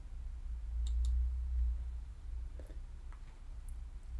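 A computer mouse clicks quietly a few times over a faint background hum, the clicks sharp, isolated and spaced apart at close range.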